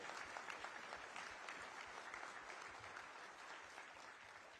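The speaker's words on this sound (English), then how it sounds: "a big round of applause for both these captains of industry" An audience at an Asian textile conference in Coimbatore applauds steadily, a dense, even wash of many hands clapping, heard from a distance and fading slightly toward the end.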